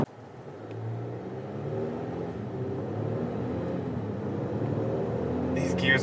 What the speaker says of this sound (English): The engine is quick, doesn't sound great